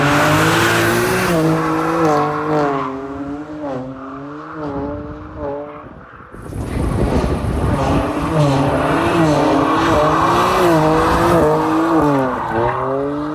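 Two overweight BMW M5 G90s drift along tight roads, their engines wailing through rising and falling revs while tires squeal and skid loudly; the roar dips briefly midway before another car surges in, close and continuous.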